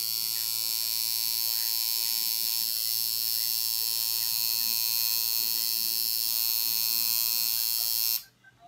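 A tattoo machine buzzes steadily and close for about eight seconds while a first tattoo is being done, a constant high electric whine that cuts off abruptly near the end.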